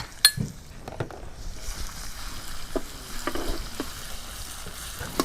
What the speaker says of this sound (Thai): เราก็จะผัด พริกกับกระเทียม ลงไป